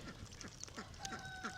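Indian runner ducks quack repeatedly at close range in a flock, a rapid series of short, raspy calls over a faint outdoor background.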